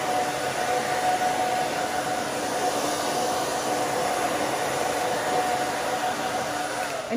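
A handheld hair dryer blows steadily and loudly at close range while drying a short pixie cut with side bangs, a constant even whoosh running alone throughout.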